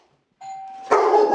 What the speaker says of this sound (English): Ring the doorbell again.